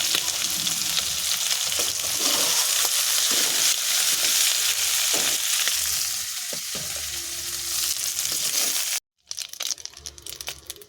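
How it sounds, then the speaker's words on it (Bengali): Prawns fry in hot oil in a pan with a steady, loud, dense crackling sizzle that runs for about nine seconds before cutting off briefly and resuming more sparsely. "চিংড়ি মাছ আমার লাল লাল করে ভেজে নিয়ে নিয়েছি"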